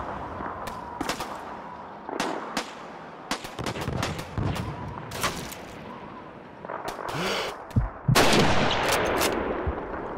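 Sniper and rifle fire during a Call of Duty 2 city battle at City Hall: many sharp gunshots cracking at irregular intervals, some close and loud, others distant, with a heavy booming burst near the end.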